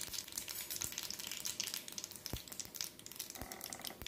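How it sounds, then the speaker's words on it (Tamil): Mustard seeds and cumin splutter in hot coconut oil in a pan, giving faint, continuous sizzling with scattered sharp pops and crackles, quiet and close with no one talking. "இப்போது எண்ணெய் சூடாயிருச்சு. ஒரு கால் ஸ்பூன் கடுகு, கொஞ்சமாக சீரகம் கொஞ்சமாக சேர்த்துட்டு"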